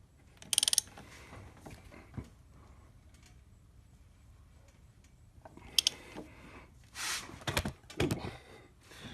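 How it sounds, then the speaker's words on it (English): A 17mm socket wrench slowly turns a stator bolt on a 2013 GasGas motorcycle, giving scattered ratcheting clicks and metallic ticks, close and sparse, with quiet gaps in between. "we're going to take our trusty 17mm socket and gently turn this"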